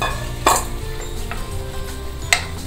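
Cooked toor dal and rice are stirred together in a pot for bisibelebath, with soft scraping and a few sharp clinks of the spoon against the metal rim.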